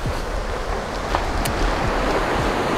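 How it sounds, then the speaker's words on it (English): A waterfall on a clear creek pours with a loud, steady broadband rush of falling water that stays constant and close throughout, with no voices over it. "I have a waterfall over here behind me."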